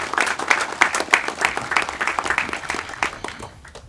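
An audience applauds at a dedication ceremony, a dense round of clapping that fades toward the end.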